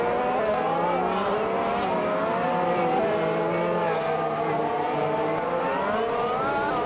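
Race cars roar around a circuit with several engines blending into a steady, loud, continuous drone whose pitch slides up and down as they pass and shift.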